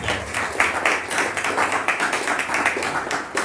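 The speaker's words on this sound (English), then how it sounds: "can we give a round of applause?" An audience at a mindset talk claps in a round of applause, a brisk, uneven patter of hands at moderate loudness with no voices over it.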